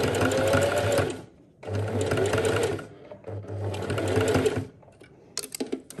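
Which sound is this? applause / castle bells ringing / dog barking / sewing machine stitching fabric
sewing machine stitching fabric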